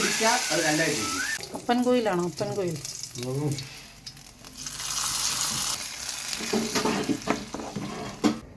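Oil crackling and sizzling as mustard seeds and chili fry for a mango curry, with a voice talking over it at first, then sizzling and sharp pops alone.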